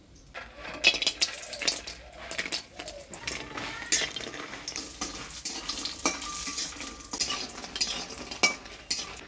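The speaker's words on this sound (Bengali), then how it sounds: "ডালের বড়িটা আগে ভাজে নিই।" Lentil dumplings (dal bori) frying in oil in a pan, busy sizzling mixed with repeated scraping and clinking of a spatula or spoon against the pan, close and uneven, without speech.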